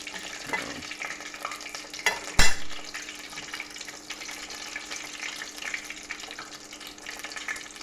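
Rice pudding arancini deep-fry in hot oil with a steady close bubbling sizzle, one sharp clatter partway through and no talking.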